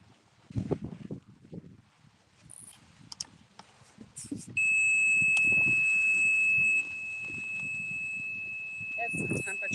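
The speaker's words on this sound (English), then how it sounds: "It's this temperature gauge that keeps going off." A temperature gauge alarm on a paranormal investigation on Block Island gives a steady, piercing high-pitched beep that starts midway and holds for several seconds, under quiet talk and shuffling from people nearby.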